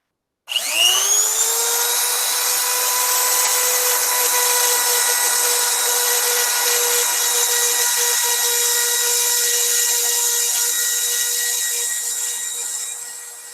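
A power tool sanding and buffing a polymer clay piece, starting abruptly and holding a loud, steady high-pitched whine for over ten seconds before easing slightly at the end.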